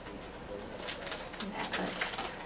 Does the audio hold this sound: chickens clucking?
no